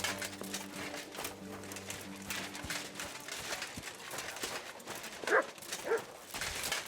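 A dog barks a few times in the medieval open-world game Kingdom Come Deliverance 2, with sharp bursts around the middle over steady ambient game noise, footsteps and faint background clatter, moderately close.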